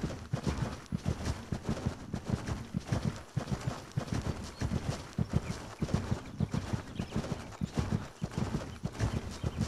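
Horse hooves gallop in a steady, quick clip-clop rhythm throughout, with no pauses, during a ride in the Wii riding game Mary King's Riding School 2.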